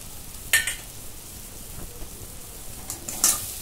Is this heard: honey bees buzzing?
no